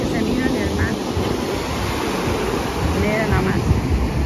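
Sea waves at a beach roll in as a constant roaring wash, with wind buffeting the microphone and a voice faintly audible under the surf.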